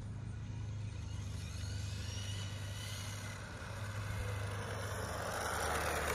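Traxxas Bandit VXL RC car on a 4S setup driving straight, a steady whining electric motor hum with broadband road rush that swells slightly toward the end, no voices.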